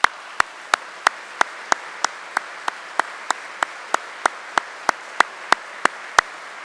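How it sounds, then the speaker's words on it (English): Evenly spaced single claps, about three per second, sharp and isolated over a quiet background, at a county government address honoring Miami-Dade County employees. "Let's please give Miami-Dade County employees a well-deserved round of applause."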